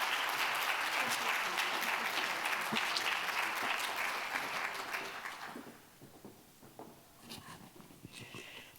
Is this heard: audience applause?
yes